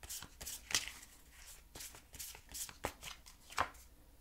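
Tarot cards being shuffled by hand to draw another card: quick, soft riffling and slapping bursts in an irregular rhythm, close and fairly quiet, with no talking.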